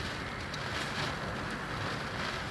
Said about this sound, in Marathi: पावसाचं प्रमाण बघा घरी आहोत आम्ही खिडकीतून व्हिडिओ करतोय